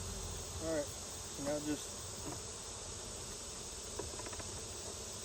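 Honey bees buzz steadily throughout a hive inspection in southern Illinois, a soft continuous drone with a few brief louder passes, while a person speaks briefly.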